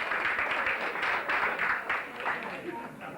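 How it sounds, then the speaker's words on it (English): Sustained audience applause from a crowd at a 1981 Mountainlodge stage show, steady and fairly loud across the whole stretch with dense overlapping claps and a few louder swells, under faint background chatter. "how about a nice warm applause for them while we are waiting for it"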